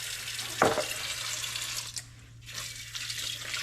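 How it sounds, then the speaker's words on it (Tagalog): Tap water runs steadily into a sink as cooking ingredients are rinsed for sinigang na tilapia, with a brief louder splash near the start and a constant low hum underneath. "at hugasan po natin yung ricado po natin"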